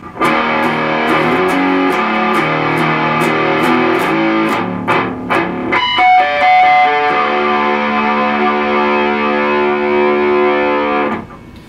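A heavily distorted electric guitar plays a chugging riff from a song, then rings out into sustained, fuzzy chords that hold before cutting off.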